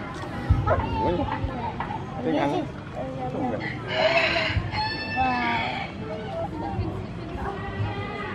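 Chickens being fed vegetables at a farm with goats, rabbits and quail cluck and squawk nearby amid lively chatter from children and adults talking over them.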